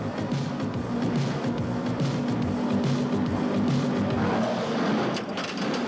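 NASCAR Winston Cup stock cars with 358 cubic-inch V8s of over 600 horsepower roar around a track, a loud continuous engine drone that swells and fades as cars pass close by.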